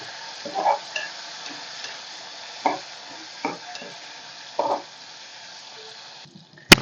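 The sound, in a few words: dried fish frying in hot oil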